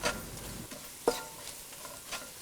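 Coriander, chili and biryani masala powders being sautéed in a pan for egg biryani: a low sizzle under a few distinct scrapes and taps of the spatula, close and fairly quiet.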